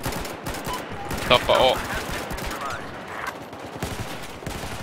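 Gunfire crackles through a Battlefield video game match in rapid bursts and scattered shots, with a person talking over the shooting.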